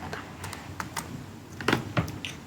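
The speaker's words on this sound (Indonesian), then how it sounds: "Caranya yaitu dengan mengklik I pada keyboard." Clicks of a computer keyboard while the I key is pressed to enter insert mode in a Linux text editor, a few separate keystrokes, close and crisp, with the last two strikes a little louder, no voices.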